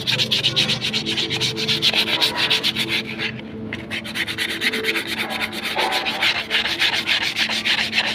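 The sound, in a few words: sanding brake shoe with sandpaper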